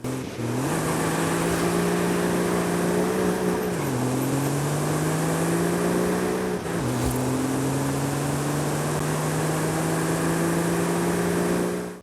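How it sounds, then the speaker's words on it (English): A 1960s Mercedes 280SL engine in Forza Horizon 5 holds a steady drone, with its pitch climbing through several gear changes and dropping between them, loud and close with no talk. "let's go ahead and take a listen to that old 1960s Mercedes engine"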